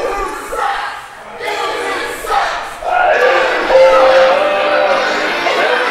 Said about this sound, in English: And as you can hear the crowd